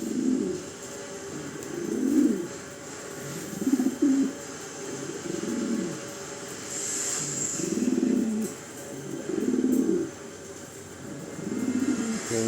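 A courting cock pigeon coos repeatedly in a double cage beside a hen, low rolling coo phrases arriving every second or two across the stretch, close and clear over faint background noise.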